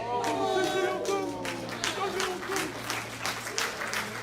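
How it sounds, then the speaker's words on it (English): A mosque audience claps in a modest, uneven burst of applause, with voices sounding over the scattered clapping throughout. "I thought y'all would have clapped a little better for that, brothers."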